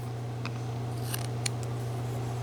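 A knife whittles a wooden figure from a block, producing a few faint, quick scraping snicks over a steady low hum.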